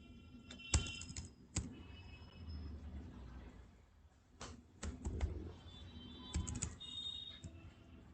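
Computer keyboard used to enter amounts into Tally accounting software, with scattered, irregular key clicks and a few firmer presses in short bursts over a low room rumble. No one speaks.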